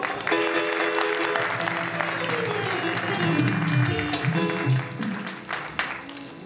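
Clapping from the audience at a singer's video album launch in an arts council hall in Lahore, steady applause running beneath music and a speaking voice.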